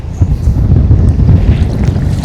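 Strong wind roars in a loud, steady low rumble across the microphone while a lift net is used to catch tilapia on still, open water.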